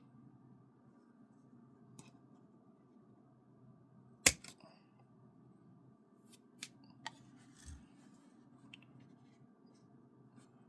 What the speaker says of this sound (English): I'm going to set my scissors in that channel, come down with my leg, snip it off